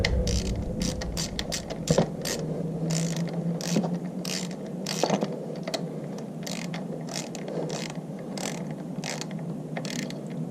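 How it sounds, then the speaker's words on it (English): A hand ratchet tightening an ignition coil bolt on a 2009 Toyota Matrix, rapid repeated clicking in short bursts with brief pauses, close and clear, no talking. "go ahead and use your ratchet."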